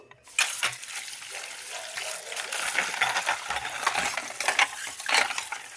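Metal puja utensils clink and clatter while being washed in running water, with a steady wash of splashing and sharp scattered metallic knocks throughout, close and fairly loud.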